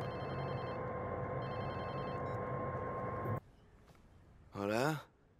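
A mobile phone rings in Watch Dogs 2, a repeating electronic ringtone over game ambience that cuts off abruptly, followed by quiet room tone and a brief voice.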